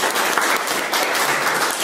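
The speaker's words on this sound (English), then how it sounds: "A round of applause for Chip." A short burst of audience applause for a speaker at a lecture event, dense clapping from a roomful of people that runs steadily throughout.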